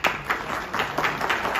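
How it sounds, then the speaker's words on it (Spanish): An audience at a university lecture applauds in short, rhythmic bursts, close and moderately loud. "un aplauso."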